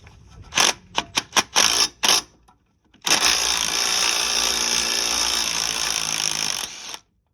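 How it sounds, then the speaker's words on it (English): Strut bolts being removed on a 1988-1992 Toyota Corolla: a series of short, loud bursts of power-tool rattling, then a brief pause and a long sustained run of buzzing tool noise of about four seconds, close and steady, with no talking. "Next, we'll remove the strut bolts."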